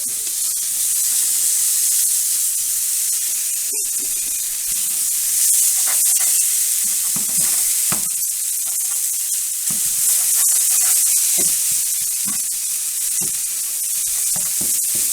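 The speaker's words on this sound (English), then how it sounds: "Get that chorizo in there, get it all nice and broken up." Chorizo sizzles and fries in a pan as it is broken up, a steady bright hiss running throughout with scattered scraping and stirring clicks, close and alone.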